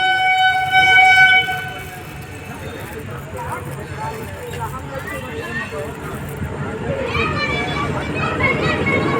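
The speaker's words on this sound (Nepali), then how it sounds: "ट्रेन आउँदैछ उताबाट।" A passenger train on the line to Patna nears a rail crossing at night, its rumble and clatter rising over a busy crowd, with people talking nearby throughout.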